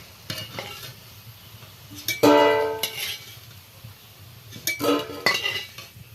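Fried prawn fritters are lifted from a pan of hot oil with a metal utensil, giving a few scraping clinks and stirring clatters over a soft sizzle, close and moderately loud, with no talking.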